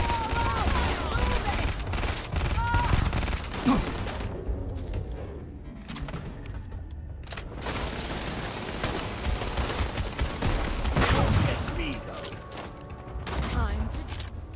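Gun emplacement firing in Starfield: bursts of rapid gunfire and impacts come in loud waves with a brief lull in the middle, under ongoing combat noise and a voice.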